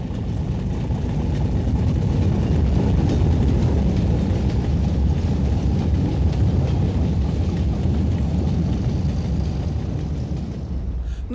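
A British Rail Class 31 locomotive in Dutch civil engineering livery hauls a ballast train along the North Wales coast, a steady loud rumble of engine and wagons that holds level from start to finish.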